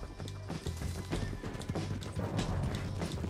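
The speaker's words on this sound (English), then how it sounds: "Jump onto the horse." Horse hooves clatter in a quick galloping rhythm in Red Dead Redemption 2, moderately loud and continuous, with a busy game soundscape around them.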